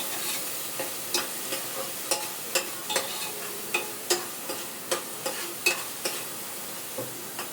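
A spoon stirs masala frying in oil for a lentil rice dish, scraping the pan in regular strokes over a soft, constant sizzle, close and moderately quiet.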